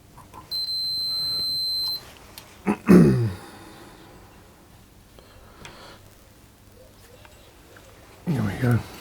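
A multimeter gives a steady electronic beep lasting about a second and a half while continuity is checked against the chassis of an amplifier build, followed by clicks and handling noise as the probes move, with quiet room tone between.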